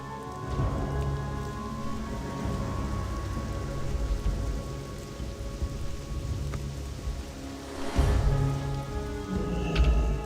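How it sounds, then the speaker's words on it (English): Rain patters steadily in Thunder Bluff in World of Warcraft Classic, a constant close shower of drops on surfaces with a low rumble of thunder underneath and a brief louder burst later, no voices. "I didn't know it could rain in Thunderbluff."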